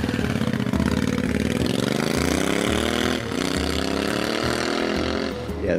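Royal Enfield 650 twin motorcycle engine with a 270-degree firing angle, running with a steady, loud rumbling beat close by, rising slightly as it revs.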